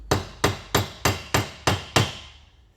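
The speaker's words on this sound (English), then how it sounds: "now, just with a few simple taps like that, now it's got a good bite" Six evenly spaced, sharp hammer taps strike the metal head of a Phillips screw on a 1973 Kawasaki H1 500 motorcycle, each a close, ringing metallic knock that decays quickly, with no talking.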